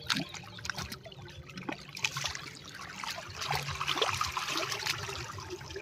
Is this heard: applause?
no